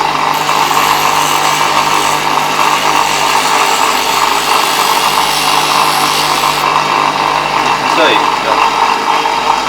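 A bench grinder sharpens a plane blade as it is rotated on the tool rest, giving a loud, steady abrasive grinding hiss close by, with a brief word of talk over it.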